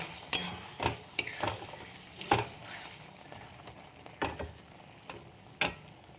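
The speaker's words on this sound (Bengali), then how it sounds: "এবার আমি বড়িগুলো ঢেলে দেবো ঝিঙে পোস্তর মধ্যে।" Lentil dumplings stirred into a ridge gourd and potato poppy seed curry in a pan, with repeated close scraping strokes of a spoon at uneven intervals over a soft steady sizzle, no voices.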